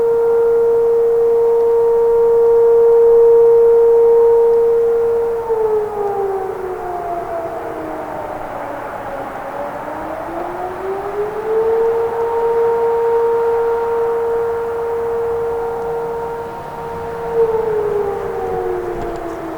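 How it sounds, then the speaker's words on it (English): An air raid siren wails loudly near a CSX railway line, holding a steady tone, then sliding down and back up in a long dip before settling again, heard alone and strong throughout. "Got the air raid siren going off."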